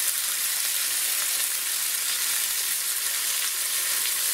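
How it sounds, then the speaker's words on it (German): Beef burger patties fry in a pan with a loud, dense, constant sizzle that holds evenly from start to finish, close up and without talk. "So, jetzt lassen wir hier die Patties braten."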